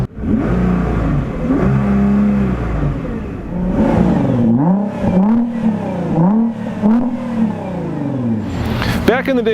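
A two-wheel-drive McLaren 570S sports car accelerates hard, its loud engine climbing in pitch through several quick gear changes with a rising, sweeping whine, close and dominant throughout.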